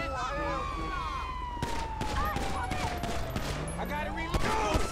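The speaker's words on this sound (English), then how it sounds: "Yo, who is shooting at me?" Gunfire in GTA 5 during a police patrol mod shootout, rapid bursts and scattered sharp shots cracking over a droning background, with a player talking through the firing.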